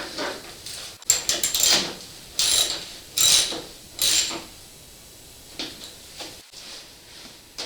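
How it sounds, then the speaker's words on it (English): Close metallic ratcheting in short bursts, a wrench clicking as a bolt is tightened under a vehicle during fender flare replacement, with brief pauses and small clanks between strokes. "So I'm just under here, getting this bolt back in."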